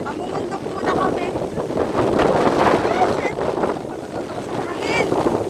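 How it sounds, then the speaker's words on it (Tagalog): Wind gusts buffeting the microphone on a mountain hike, a steady roaring rush that swells and eases in waves, loud and close throughout with no clear talk. "Hangin."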